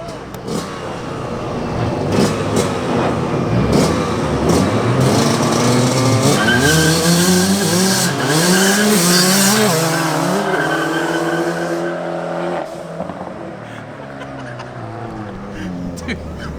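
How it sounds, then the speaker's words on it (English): A Fiat Abarth accelerates hard with its tires spinning through second gear, the engine note climbing steadily in pitch for about ten seconds before easing off, loud and close, with a voice talking over it. "The Fiat spins the entire way through second."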